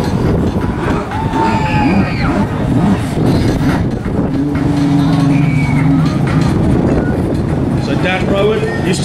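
A large crowd at a freestyle jet ski event screams and cheers continuously in the distance, with whistles and shouts rising through the noise and a loudspeaker voice talking over it.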